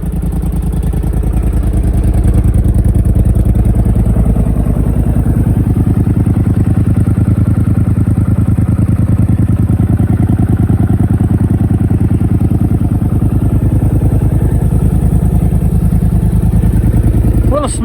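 A cold-starting old engine, untreated fuel line and carburetor, runs at a steady loud idle, its chugging drone filling the space with a continuous low rumble.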